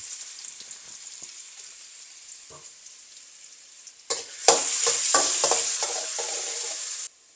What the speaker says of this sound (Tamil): இந்த உருளைக்கிழங்கை ஃப்ரை பண்ணுறேன்.